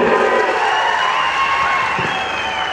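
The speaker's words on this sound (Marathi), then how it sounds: "जरा जोरदार टाळ्या झाल्या पाहिजेत." A large crowd at a political rally cheers and applauds together, a loud, dense and sustained roar with whistles and shouts riding over steady clapping.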